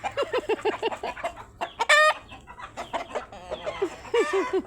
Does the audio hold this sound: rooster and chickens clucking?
yes